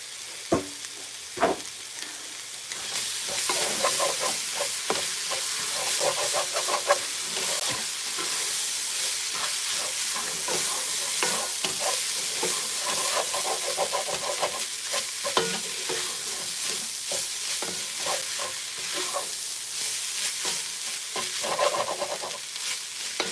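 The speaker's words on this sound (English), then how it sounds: "And now my beef, I'll put it back again in my pot and let it cook again." Beef returned to a pot and cooking, a continuous dense sizzle and bubble with frequent scraping taps of a spoon stirring, close and steady after a quieter start.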